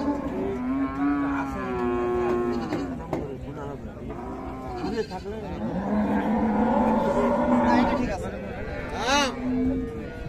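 Friesian cow and calf lowing at a busy cattle market in Dinajpur, several long moos rising over steady crowd chatter and people talking nearby.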